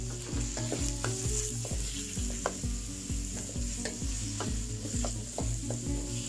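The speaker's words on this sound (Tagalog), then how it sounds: "Fry lang natin sa ating luto ng chicken natin." Chicken breast stir-frying in a pan alongside shrimp for a shirataki noodle stir fry, with a steady sizzle broken by rhythmic scraping strokes of a spatula about twice a second, close and with no talk.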